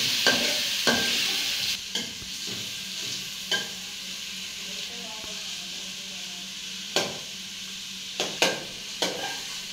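Hilsa fish pieces and chopped onions frying in a pan: a low continuous sizzle punctuated by repeated sharp clacks of a spatula against the pan, fairly close and without talk.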